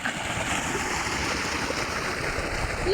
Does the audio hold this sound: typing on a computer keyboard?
no